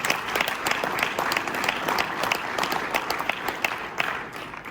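An audience at a chamber of commerce annual meeting in a ballroom claps enthusiastically after a live music performance, a dense, steady round of applause lasting several seconds.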